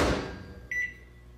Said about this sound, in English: I don't know why the microwave isn't working.